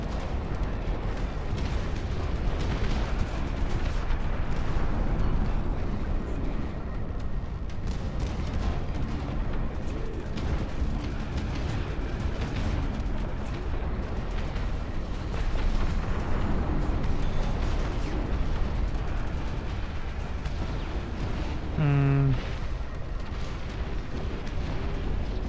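Howitzer artillery in the Dust Front RTS game booms repeatedly amid dense battle noise, a continuous rumble of explosions and bursts with a brief tonal game sound near the end.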